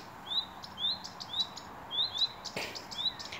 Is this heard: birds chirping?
yes